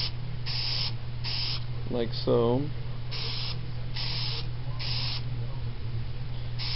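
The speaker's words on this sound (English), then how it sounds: "we'll start spraying the filter oil on there" Filter oil is sprayed onto a washed air filter in short, evenly spaced aerosol bursts over a low steady hum, with someone speaking briefly partway through.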